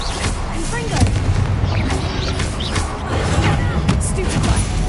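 The Confringo explosive spell in Hogwarts Legacy blasts loudly amid a dense barrage of booming impacts and combat noise, close and continuous, with voices underneath.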